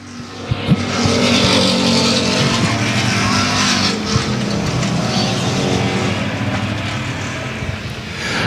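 Race cars on the track at South Texas Speedway, loud continuous engine roar from cars passing nearby, holding steady with slight swells throughout.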